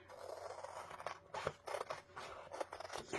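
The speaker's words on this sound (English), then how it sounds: "So we are going to cut this apart." Scissors snip through a Chalk Couture transfer sheet for an Eight Tiny Reindeer design, giving a run of crisp, close cutting and scraping strokes in a quiet room.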